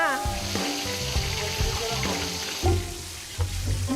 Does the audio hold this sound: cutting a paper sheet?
no